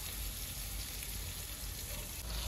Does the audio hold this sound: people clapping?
no